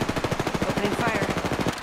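Automatic weapon fire in the video game Apex Legends, a fast, loud, unbroken burst of rapid shots lasting nearly two seconds.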